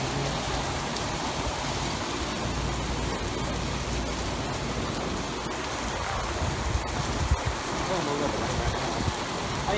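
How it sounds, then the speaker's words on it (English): Wind-driven rain during a coastal storm at Orange Beach, Alabama, a steady dense hiss of rain and gusting wind filling the whole stretch at constant loudness, with faint voices now and then. "The wind's blowing that rain in pretty good."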